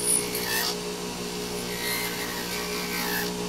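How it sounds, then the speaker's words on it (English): A blade shaves thin layers off the front of a digital prosthetic iris, right over the pupil, making a faint, steady dry scraping that runs continuously and quietly without speech. "So I take the blade and I start right over the pupil,"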